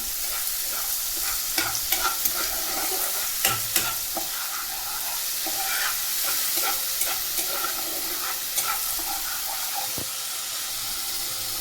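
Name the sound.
sautéing spice masala in a pan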